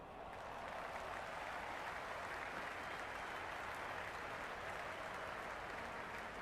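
Simulated stadium crowd in the Cricket 26 video game, Sydney Thunder versus Sydney Sixers match, applauding steadily as a dense, even wash of clapping that holds at a constant level for the whole stretch, with no talk over it.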